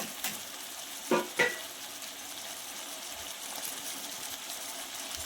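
Chicken with fenugreek leaves frying in oil, a soft continuous sizzle with a couple of brief spoon clanks against the pan early on.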